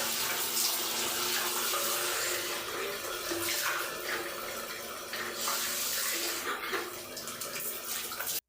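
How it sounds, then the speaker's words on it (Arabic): Tap water runs steadily while a bathroom sink and faucet are rinsed during cleaning. The rushing, splashing flow is close and continuous, shifting slightly as the stream hits different surfaces, with no voices. "شطفت كده تشطيفه حلوه جدا جدا عشان طبعا الصابون ما يجيرش معايا على الحنفيات ولا يجير معايا على الحوض"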